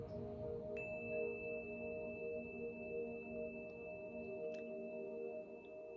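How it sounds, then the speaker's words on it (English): Steady electronic sine tones and a sustained chirp-like pitch drone softly behind a guided meditation, with a few faint high blips, calm and continuous without speech. "Use the tones, ride the tones with your consciousness."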